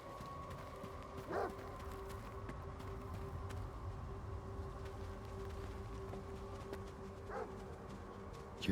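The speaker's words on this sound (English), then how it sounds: "More dogs." Dogs in the video game STALKER 2 give two distant, faint barks several seconds apart, sitting low beneath steady ambient game noise and a tonal hum.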